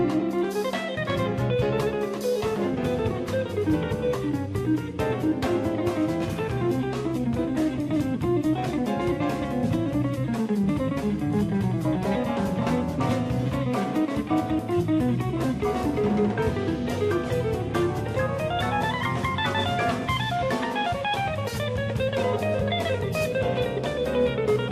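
A live guitarist plays with a full band, captured as a line recording. Dense, continuous music holds loud and steady throughout, with busy guitar lines over the band and no talking.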